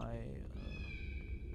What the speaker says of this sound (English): Can you see my kitten? I hear her down there meowing!